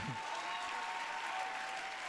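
Church congregation applauding and cheering during a sermon, a steady dense wash of clapping with crowd noise throughout, with a faint voice underneath.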